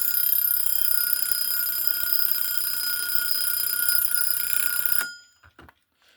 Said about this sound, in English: I will now try and activate said alarm